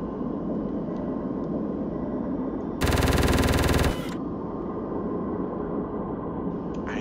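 Rapid gunfire in a space combat video game, a single dense burst of about a second, loud over a steady hum of engine noise, with no talk.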